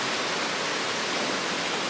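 Waterfall at Dogwood Canyon in Branson, Missouri, a constant dense roar of rushing water, loud and unbroken throughout with no voices.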